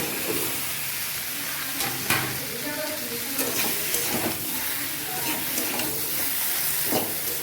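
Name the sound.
okra being added and stirred in frying pan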